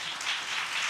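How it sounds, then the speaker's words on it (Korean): Applause from a conference audience welcoming a panel speaker, a brief steady wash of many hands clapping at moderate distance. "박수로 환영해 주십시오."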